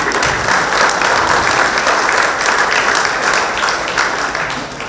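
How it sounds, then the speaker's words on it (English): An audience at a high school Hall of Fame induction ceremony gives loud, dense, sustained applause that fades slightly toward the end. "give yourselves a round of applause"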